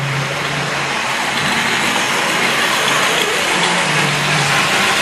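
Hornby Triang model train wagon running along its track, a steady, continuous mechanical whirring rumble that holds at an even, fairly loud level throughout, with no voices.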